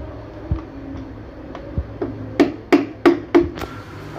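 Steel hammer tapping the edge of a Toyota Corolla Altis 2000cc transmission part during an overhaul: a few soft knocks, then four sharp metallic raps in quick succession, close up.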